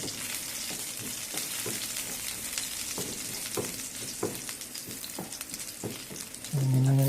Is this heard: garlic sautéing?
yes